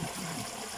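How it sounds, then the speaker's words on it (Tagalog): Water runs and trickles steadily into a fishpond stocked with milkfish and mud crabs, a soft continuous flow, with a brief louder gurgle near the end. "ganyan pala po yung pag nagpapapasok ng tubig"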